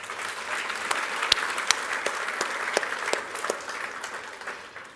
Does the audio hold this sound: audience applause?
yes